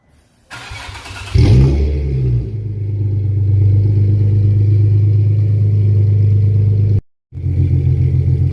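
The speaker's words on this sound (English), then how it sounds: "Go ahead and turn the car on." A car engine cranks and catches, then settles into a steady, loud idle close by, with a brief dropout near the end before the running resumes.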